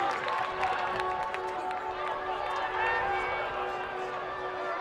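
Stadium crowd at a Colorado Summit game in light drizzle, roused by a player, makes a steady, dense roar throughout, with a commentator talking over it.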